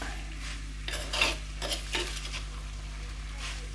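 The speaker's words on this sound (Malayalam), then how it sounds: "കല്ലുപ്പിട്ട് കൊടുക്കുന്നുണ്ട്. നന്നായി ഒന്ന് ഇളക്കി കൊടുക്കുക." Crab and rock salt get stirred in a pan, with a few scraping, clinking strokes of a utensil against metal over a steady low hum; no voices.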